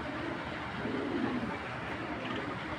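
Racer pigeons, a deep-pebble-eyed white tracer knot among them, coo softly at moderate distance in a steady murmur, with no voices over the calls.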